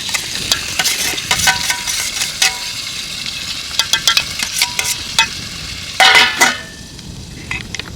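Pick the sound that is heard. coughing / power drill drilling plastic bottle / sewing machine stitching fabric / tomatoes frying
tomatoes frying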